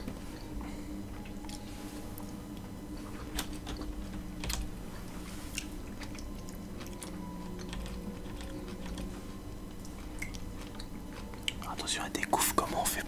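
Light tapping on a computer keyboard while a player remaps controls for a cooperative spaceship game, soft scattered keystrokes under quiet voices and low background hum, with a louder flurry of clicks at the end.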